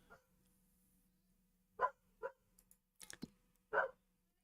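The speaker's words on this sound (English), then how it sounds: "farm dog's telling me I should get on with it" Farm dog in Farming Simulator 25 on a Gloucestershire vineyard and olive farm gives several short, faint barks spaced over a few seconds above a low steady background hum.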